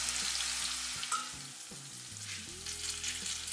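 Fish pieces fry in hot coconut oil with a steady, close sizzle for the whole stretch, broken by a few soft clinks of a utensil. Faint music runs underneath, and no one speaks.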